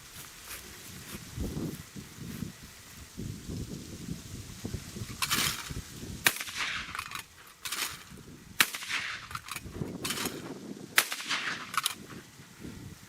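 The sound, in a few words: Fabarm L4S Sporting 12 gauge shotgun being fired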